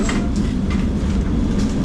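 A close, steady rumble of an old tram rolling along rails in Lisbon, with a constant low drone and faint rattling, and no talking.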